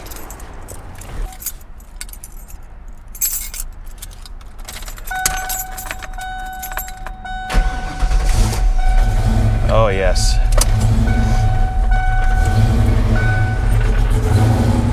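Keys jangle and a 1993 Ford Mustang turbo engine cranks and catches, settling into a loud, rough cold idle; a voice speaks briefly.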